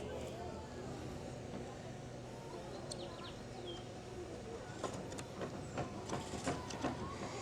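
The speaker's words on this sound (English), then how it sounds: "And I do apologize for the kid noise." Distant children's voices chatter and shout from a neighboring private school, a busy murmur with scattered higher calls, steady throughout and growing livelier toward the end.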